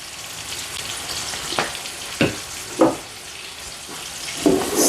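Onions and garlic fry with curry powder and butter in a pot, a steady hiss of sizzling broken by a few spoon stirs and scrapes spaced a second or so apart.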